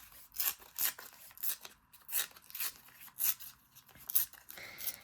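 Paper torn by hand in a run of separate rasping rips, close and crisp, for a mixed media collage, each tear a short burst with brief pauses between, and no voices.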